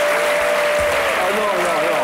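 Studio audience applauding on a French television dating show, a dense continuous wash of clapping throughout the short stretch, with a voice briefly speaking over it.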